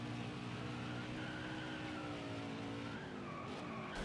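A NASCAR Heat 5 racing truck skids at Atlanta after a blown tire, its tires squealing under a droning engine whose pitch slides and wavers throughout, heard alone with no voices.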